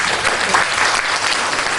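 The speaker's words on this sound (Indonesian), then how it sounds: "Mari tepuk tangan sama Tuhan Yesus." A church congregation claps together in a dense, continuous burst of applause lasting the whole moment, loud and close with no pauses.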